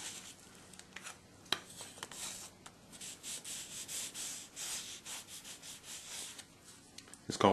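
Varnish being rubbed by hand onto a scale wooden structure, a steady soft scrubbing and rubbing texture close up, with occasional sharper brushes and light knocks.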